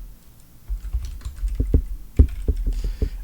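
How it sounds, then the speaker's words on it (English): A computer keyboard is hit hard in quick, uneven bursts of sharp close clacks, sparse at first and then more steady, with no talking. "Pardon my keyboard hammering."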